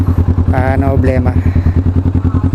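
A motorcycle idles at low RPM close by, its engine and exhaust thumping in a steady, even rhythm throughout while someone speaks over it.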